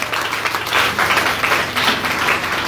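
A church congregation claps and applauds in praise of the Lord during a Pentecostal worship service, a steady dense wash of many hands filling the space without pause.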